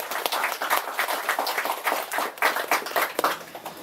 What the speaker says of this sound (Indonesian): Kembali kita tepuk tangan.